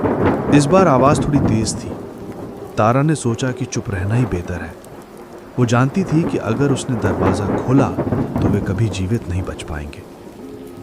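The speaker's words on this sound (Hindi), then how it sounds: "बारिश की आवाज के अलावा सन्नाटा था" Rain and thunder sound effects play beneath someone narrating a horror story, with low rumbling and steady rain wash continuing under her voice throughout.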